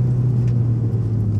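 A 400 HP Mitsubishi Lancer Evo 5 during a heel-toe downshift, a steady low engine rumble with a brief blip, close and alone without talk.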